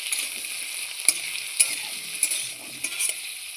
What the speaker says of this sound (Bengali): আলুটাকেও আমি ভালোভাবে লাল লাল করে ভেজে নিচ্ছি